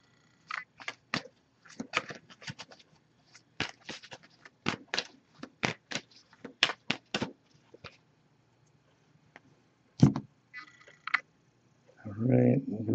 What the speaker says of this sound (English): I'm just going to give this a few more shuffles, then I'll put the deck down, cut the deck